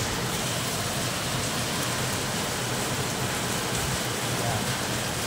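Heavy rain falls in a constant, loud wash of hissing noise, with no pauses.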